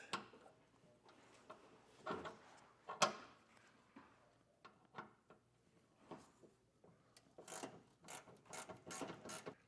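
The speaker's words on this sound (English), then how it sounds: "back here we're going to have 3 10mm bolts that we'll have to get removed" Ratchet loosening 10mm bolts in the wheel well of a 2024 Ford during a base plate install, with quiet intermittent clicking bursts and faster rattling ratchet strokes near the end.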